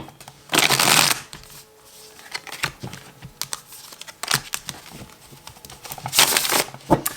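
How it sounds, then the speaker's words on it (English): A tarot card deck is shuffled close by in loud riffling bursts near the start and end, with quieter card slaps and taps in between. "I'm just going to quickly shuffle the deck"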